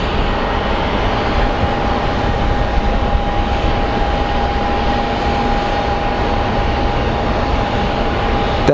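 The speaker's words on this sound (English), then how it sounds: "let's go take a look at our Southwest flight that is departing for Chicago next" A Southwest Airlines airliner departing Phoenix Sky Harbor airport, a steady, broad jet engine roar with a thin whine, continuous and fairly loud, heard from a distance with no talking.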